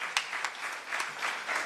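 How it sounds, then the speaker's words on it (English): An audience at a homoeopathy book launch function applauds, a short burst of scattered clapping, fairly faint and brief, with no talking. "we have to give a big round of applause to Kishore Mehta sir"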